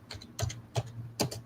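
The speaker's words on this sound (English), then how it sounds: "pardon me, guys, while I with my 2-finger typing skills" Slow two-finger typing on a computer keyboard, a handful of separate key clicks with uneven gaps between them, close and clear, with no talking.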